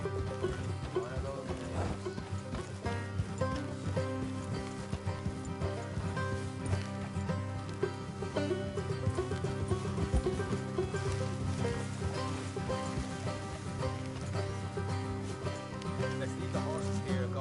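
Horses ridden along a road in the Red Dead Redemption 2 video game, steady hoof clip-clop under a continuous music score, with occasional voices.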